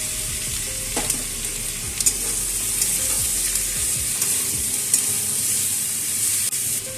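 Soaked spice paste hitting hot oil with frying suran (elephant foot yam) for a prawn curry, giving a loud continuous sizzle with occasional stirring scrapes and clinks close by.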